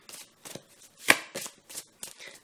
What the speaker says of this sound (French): comme vous l'entendez, je suis déjà en train de mélanger les cartes.